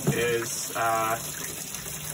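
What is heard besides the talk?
water running while washing a paint brush handle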